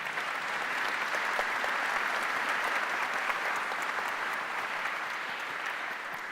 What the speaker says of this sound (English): Please give the round of applause to our excellent speakers.